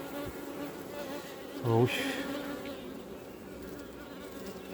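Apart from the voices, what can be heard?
honeybees buzzing at an open hive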